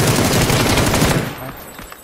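Sustained automatic gunfire from an online multiplayer shooter shootout, dense rapid bursts filling the first second and a half before cutting off abruptly, with players talking over headsets.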